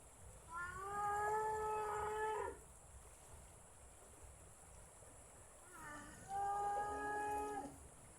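A carabao (water buffalo) by a river lows twice in long, loud, harmonic moos, each lasting about two seconds, separated by a quieter gap of ambient noise.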